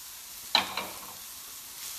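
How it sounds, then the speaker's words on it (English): Onions hit a hot pan and sizzle while being stirred for a vegan massaman curry, a sharp burst of hiss followed by a second smaller one, then a quiet steady fry. "And then you just stir it and it'll start to caramelize."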